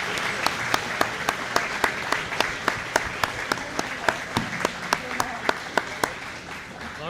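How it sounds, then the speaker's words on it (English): A school sports awards audience applauds athletes, a steady rhythmic run of distinct loud claps with a hubbub of crowd noise beneath, easing slightly toward the end. "Let's give them a round of applause."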